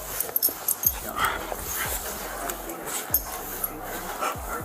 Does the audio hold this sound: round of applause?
no